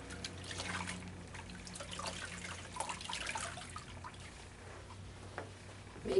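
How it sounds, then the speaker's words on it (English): Water trickles and drips softly while a washcloth mitt is rinsed during a bed bath, faint irregular splashes over a quiet background with no voices. "Time to rinse."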